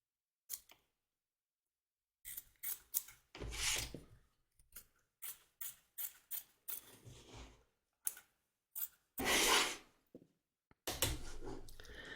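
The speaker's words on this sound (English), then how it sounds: "Trim away the excess batting from around the edge of the stitch lines, taking care not to cut your stitches." Scissors snip repeatedly through excess batting around the stitch lines of a fabric glasses case, close and crisp, in irregular bursts of short cuts separated by silent pauses.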